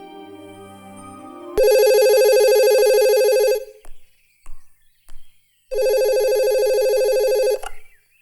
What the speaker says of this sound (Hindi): अरे कितनी देर से घंटी बज रही है, कोई उठाता क्यों नहीं?